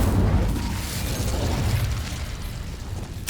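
In Hogwarts Legacy, the Incendio fire spell lets out a continuous, roaring burst of flame. The whooshing rush stays loud and steady, then eases slightly before a sharp crackle at the end.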